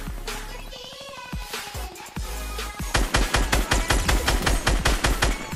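Fortnite battle royale gunfire opens with a few separate shots, then turns into a loud, rapid, evenly spaced burst of repeated shots that fills the second half, close and punchy.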